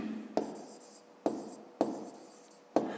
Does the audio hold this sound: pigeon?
no